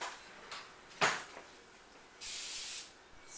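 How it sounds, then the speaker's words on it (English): Non-fat cooking spray hisses into a medium-sized pan in short bursts, a quick puff followed by a longer, steady spray, faint and close in a quiet kitchen. "Spray the pan, it's a medium-sized pan"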